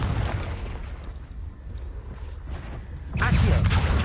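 A Confringo fire spell in Hogwarts Legacy on PS5, a rumbling game soundscape that breaks into a sudden loud explosive burst near the end.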